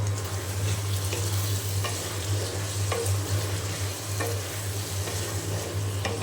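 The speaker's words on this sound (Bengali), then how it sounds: "তো এখন খুব ভালো করে আমি কষিয়ে নেব।" Taro curry sizzles in a pan as a spatula scrapes and stirs it in regular strokes, with a steady low hum underneath throughout.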